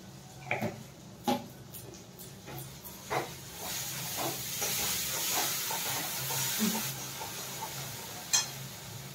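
Cumin and chili powder stirred in a hot frying pan for a Bengali capsicum posto dish, giving a steady soft hiss and sizzle with scattered scraping clicks of the spatula, close and fairly quiet, no voices.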